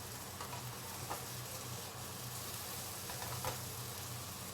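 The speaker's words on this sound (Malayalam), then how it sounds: "വെളിച്ചെണ്ണ ചൂടായി വരുമ്പോൾ നമ്മൾ ഈ പൊട്ടാറ്റോ അതിപ്പോൾ പാനിലേക്ക് ഇടാം" Potato pieces frying on high flame in hot coconut oil in a pan, a soft continuous sizzle at low level with a few faint stirring knocks, no voices.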